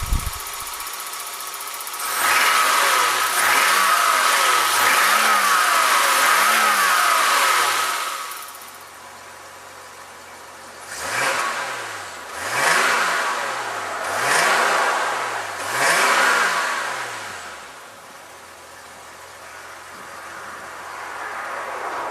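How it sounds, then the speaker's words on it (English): A 1983 BMW 323i E30 engine runs close up, revving in several rising and falling surges between stretches of steady idling, with no talking. "Let's hear the engine now."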